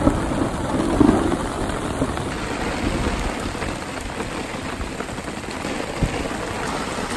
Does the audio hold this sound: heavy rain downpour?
yes